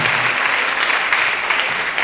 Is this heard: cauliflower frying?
no